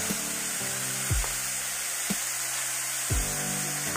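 Onions and mixed vegetables fry in a pan over a steady low sizzle, with a few sharp utensil knocks against the pan at irregular intervals; no voices.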